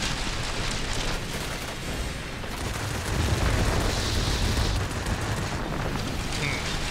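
Anti-aircraft fire bursting around a plane in World of Warplanes, a dense, continuous rumble of explosions and flak under steady engine drone, loud throughout with no pauses.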